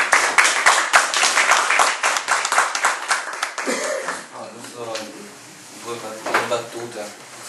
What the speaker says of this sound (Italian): Facciamo un applauso ai ragazzi.